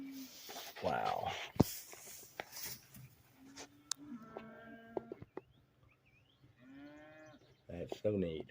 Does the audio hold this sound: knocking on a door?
no